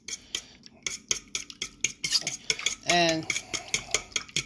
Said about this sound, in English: Okay, now we're going to mix the egg in.